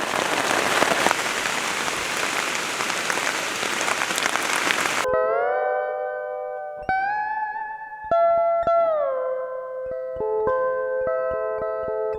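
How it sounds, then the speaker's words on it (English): Rain falls in the jungle as a dense, steady hiss of drops for about five seconds, then cuts off abruptly to near silence broken by a few tonal electronic sounds. "but then it started raining"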